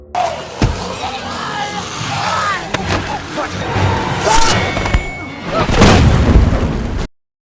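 Loud booming blasts and heavy thuds rumble through a chaotic scene, with a big burst near the end before sudden silence.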